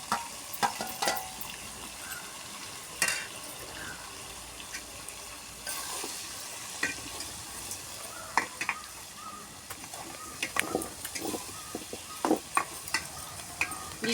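Mango pieces going into a simmering tomato curry with drumsticks, with stirring scrapes and a soft sizzle in a pan, close and steady with intermittent clinks of a spoon.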